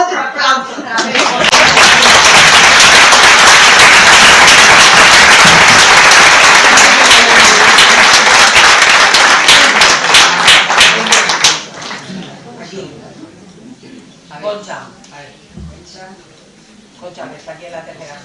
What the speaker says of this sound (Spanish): otro aplauso otra vez